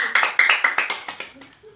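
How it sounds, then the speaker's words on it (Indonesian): Students clapping together in a classroom, a short burst of several quick claps over about a second before it thins out and fades. "Beri tepuk tangan untuk kalian semuanya"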